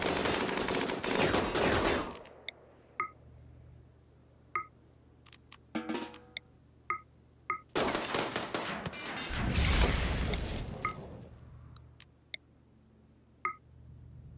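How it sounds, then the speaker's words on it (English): Gunfire from a new rifle in RimWorld Odyssey cracks out as a series of sharp, evenly spaced single shots, clear against a quiet background, with two longer rumbling bursts of noise in between. "And we'll just shoot the rest of them."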